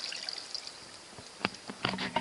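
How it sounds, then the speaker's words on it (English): Canned beef broth is poured into a pan in a quiet kitchen, faint liquid splashes and a few sharp clinks near the end, short and soft, with no voices. "Then I'm going to add in my beef broth, the whole can."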